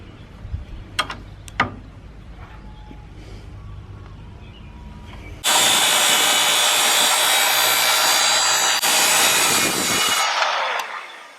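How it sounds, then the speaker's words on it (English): A circular skill saw rips through a wood railing being built for a concrete mount, starting with a few light handling knocks, then a loud, steady, close cut lasting several seconds before the blade spins down. "we're going to take the skill saw and set the depth to make this first cut"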